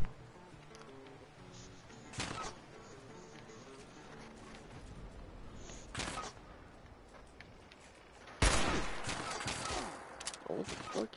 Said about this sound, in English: I'm getting shot by robots through trees.